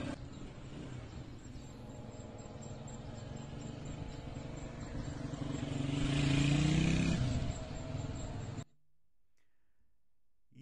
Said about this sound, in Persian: یه صدای سوتی تو موتورشه